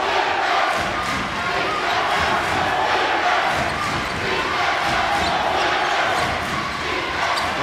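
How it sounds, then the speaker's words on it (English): Home crowd at a college basketball game, Wagner versus Mount St. Mary's, chanting defense in a steady, loud roar that fills the arena, with rhythmic swells and occasional thumps throughout. "Listen to them chanting defense."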